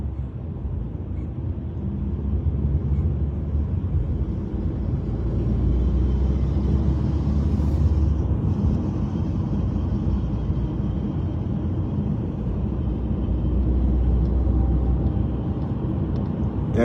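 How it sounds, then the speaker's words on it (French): A smoking car engine runs loudly nearby as a steady, deep rumble that swells slightly and holds for the whole stretch, with no voices over it. "Il y a une voiture là qui crie un peu comme la mienne"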